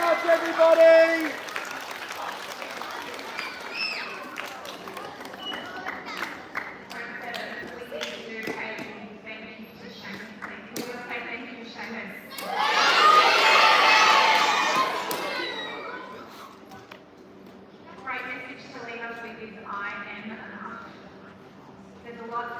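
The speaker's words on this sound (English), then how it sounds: "Give yourselves a big round of applause!" High school students, seventh graders at a live motivational speech, break into a loud burst of applause and cheering midway, with voices talking before and after.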